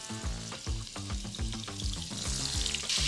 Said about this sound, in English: now that this is smoking hot, we're gonna add in our chuck roast first